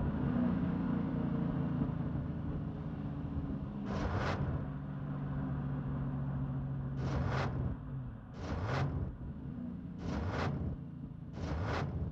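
A car engine sputters and rumbles, with a steady low drone broken by several loud, sharp bursts that come in irregular clusters, close and prominent with no talk.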